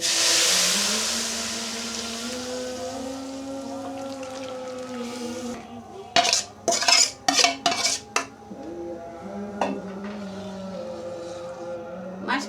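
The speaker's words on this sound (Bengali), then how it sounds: "এখন আমি ডাউলটা দিয়ে দিব ডাউল ডেলে দিচ্ছি" Lentils are poured into a pan of fried onion and garlic, starting with a sizzling hiss and sustained tones, followed by a cluster of sharp metallic clinks and scrapes, close and moderately loud.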